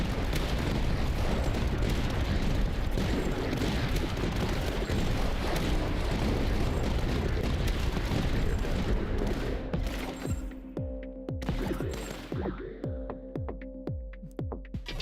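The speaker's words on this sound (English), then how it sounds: "Upgraded his guns to that heavier firing cannon." Heavy cannon firing in the video game Tower Dominion, a rapid dense barrage of booming shots and explosions that thins to separate blasts toward the end, loud with no talk.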